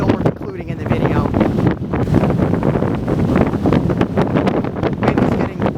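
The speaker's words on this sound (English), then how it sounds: "Wind is getting very strong. I think this is the strongest gust that we have had here." Strong wind gusts outdoors at Rainbow Basin roar steadily and loudly for several seconds, buffeting close against the microphone with continuous rumbling bursts.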